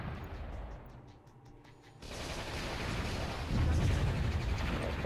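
Ripple rocket batteries fire in the strategy game Warzone 2100, a rolling barrage of dense, rumbling launches that grows louder and fuller partway through and keeps booming without pause, with no voices.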